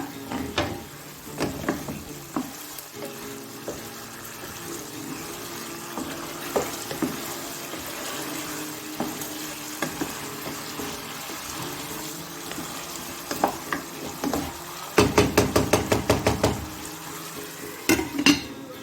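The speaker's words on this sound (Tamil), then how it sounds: "இதை அப்பப்போ இடையில ஓப்பன் பண்ணி நல்லா இதை கிண்டி விடுங்க." Hariyali chicken frying in a pan is stirred now and then, with sizzling under repeated scraping and clinking of a spoon against the pan and a rapid burst of scrapes near the end, and no talk.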